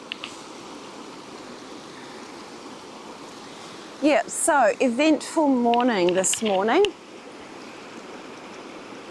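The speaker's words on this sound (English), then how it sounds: "The river is literally 50 centimetres behind the tripod," A river flows loudly right behind the camera on a camping trip, a constant rushing wash running throughout, with someone talking over it partway through.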